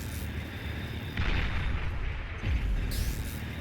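Recluse units firing anti-air in the real-time strategy game Beyond All Reason, a run of booming, artillery-like shots and blasts over a constant rumble of battle, loud and close.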